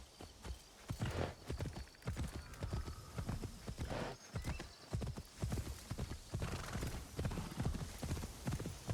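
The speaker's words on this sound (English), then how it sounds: "call the horse while I'm running" A horse gallops in Assassin's Creed Shadows, its hooves beating out a fast, steady clip-clop rhythm that runs close and loud the whole way through, with a brief whinny and some game ambience mixed in.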